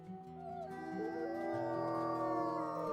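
Several wolves in the WolfQuest game howl together, layered wavering tones rising and overlapping in a sustained chorus that grows slightly louder, with no talking over it.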